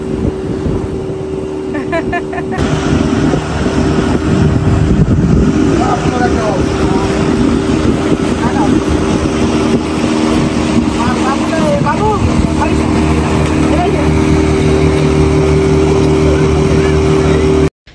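A boat engine drones steadily during a ride on a lake at Laghi di Avigliana, Italy, with wind buffeting the microphone and faint voices of people aboard underneath.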